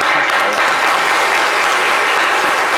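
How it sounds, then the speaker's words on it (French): Studio audience applause on a live French radio-TV call-in show, a dense, loud, continuous wash of clapping that fills the whole moment without pause. "Applaudissements pour M."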